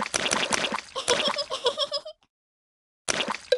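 Cartoon water splashing in a Peppa Pig video game, bright bubbly splashes mixed with giggling in two short bursts separated by a second of silence.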